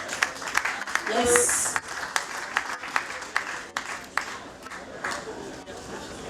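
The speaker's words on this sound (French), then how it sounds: "Applaudissez pour elle, applaudissez s'il vous plaît." Audience applause at an award ceremony honouring a woman, moderate clapping from the hall with individual claps standing out, while a voice briefly speaks over it and a whoop rises near the start.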